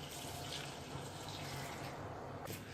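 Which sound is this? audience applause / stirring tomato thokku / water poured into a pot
water poured into a pot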